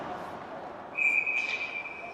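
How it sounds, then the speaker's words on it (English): A referee's whistle at a high school hockey game blows one sustained shrill blast of a bit over a second, mid-clip, above a steady arena murmur. "And we get a whistle."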